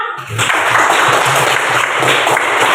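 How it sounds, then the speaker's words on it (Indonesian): A classroom of students bursts into applause, steady dense clapping that starts abruptly and carries on loudly to the end. "Coba berikan aplaus semua."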